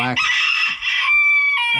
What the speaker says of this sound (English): black and white one that keeps crowing